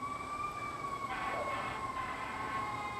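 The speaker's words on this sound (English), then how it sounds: "Sirens on, a fire truck drove by the front porch" A fire truck's wailing siren rises and falls steadily over distant traffic rumble, fairly faint and unbroken, with no voices.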